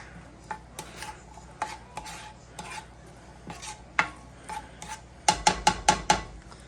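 Chopped onion half gets stirred in a pan while cooking for crockpot lasagna, giving irregular scraping and clinking utensil strokes, then a quick run of five sharp taps near the end.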